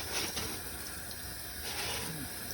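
Tap water runs steadily from a faucet over a paint roller cover being cleaned with a roller-cleaning tool, a continuous close splashing hiss with no voices.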